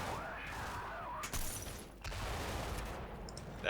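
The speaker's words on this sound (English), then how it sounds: "That 50 caliber armor-piercing incendiary explosive round is seeming a little bit underwhelming there" A .50 caliber gun fires armor-piercing incendiary explosive rounds in the video game Combat Mission Shock Force 2, heard as a rumbling burst with sharp impacts, a dip, then more sustained firing noise.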